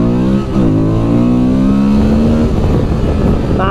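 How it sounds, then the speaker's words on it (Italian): A Honda Transalp XL 750 motorcycle accelerates hard in sport mode on a test ride, its engine note climbing loud and close before settling into a steady, strong drone, with no talking. "guardatela qua come la spingiamo, la moto comunque riesce ad essere super fluida anche nella mappa sportiva"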